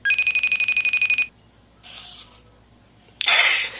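Outgoing telephone call ringing back: a fast warbling electronic ring tone pulsing for about a second, then silence, a faint brief tone, and a sharp burst of noise near the end.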